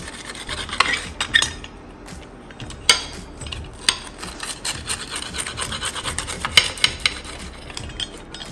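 A knife cuts a veggie quesadilla into three portions, with repeated scraping and rasping strokes across a board and crisp tortilla crunches, close and steady without talk.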